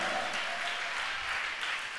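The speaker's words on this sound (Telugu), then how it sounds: "కొట్టు, చప్పట్ల గట్టి కొట్టు." A church congregation claps loudly during a sermon, producing a dense, steady wash of applause that holds at an even level throughout without pause.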